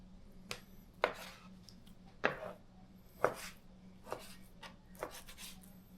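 A knife chops pork butt into large pieces for Filipino asado, giving about six evenly spaced, close, crisp thuds on a cutting board, with a faint scrape after each stroke and quiet between.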